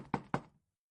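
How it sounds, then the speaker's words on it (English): Two firm knocks land on a door at night, close and evenly spaced, followed by silence. "A few minutes later, Taz and Corey knock on a door."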